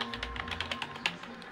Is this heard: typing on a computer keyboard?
yes